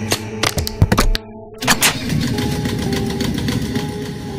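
A few sharp knocks and clatters, then a generator engine catches and settles into a steady, loud running hum.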